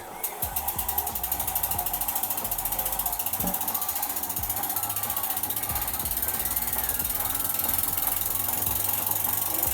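Bike wheel fitted with a Maxxis Recon tyre spins on a rolling-resistance test rig, giving a steady fast mechanical whir with rapid ratchet-like clicking and gear noise, close and constant, with no talking.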